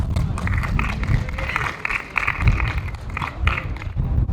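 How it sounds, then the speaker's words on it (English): An audience at a live art event applauds in dense, uneven bursts that swell and dip over several seconds, with no voices heard above the clapping. "a round of applause for Malaika"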